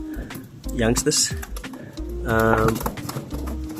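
Racing pigeons, the cocks, shuffle in a basket with soft coos and rustling, heard close and quiet under someone talking.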